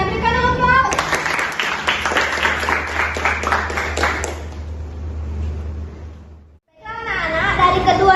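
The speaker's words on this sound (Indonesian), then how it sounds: "Berikan aplaus." A classroom applauds during a micro-teaching lesson, with quick, bright clapping from many hands for about three seconds that fades away. A teacher speaks before and after it.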